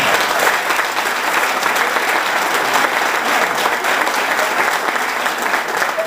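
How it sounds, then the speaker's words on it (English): Audience applause at a debate, sustained and even, a dense wash of clapping filling the room with no talk over it. "I think that's worth a round of applause."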